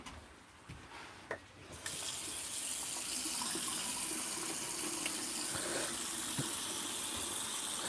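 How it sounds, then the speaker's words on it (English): Tap water runs steadily from a faucet to refill a home aquarium, starting after a few soft clicks and then continuing as a loud, even rush to the end. "So let's turn the water on from the tap and start refilling the tank."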